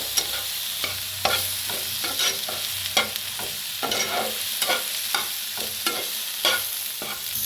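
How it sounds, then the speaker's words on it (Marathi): Sesame and cumin seeds rattle and scrape in a dry pan as a spoon stirs them in steady, repeated strokes, with no voices. "आता ह्याला मिक्स करून भाजून घेऊया"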